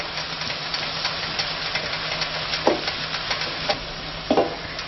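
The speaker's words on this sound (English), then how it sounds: "Saute the onions until they're light golden brown." Onions and curry leaves sauté steadily in a hot pan, a continuous close sizzle broken by a few brief scraping stirs.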